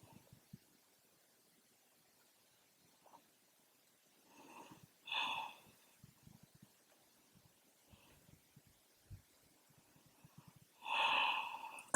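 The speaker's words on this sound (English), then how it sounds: "taking a few breaths" Slow, deep breaths during a forward-fold yoga stretch in a vinyasa flow, two or three audible inhales and exhales standing out from near silence, close and fairly soft.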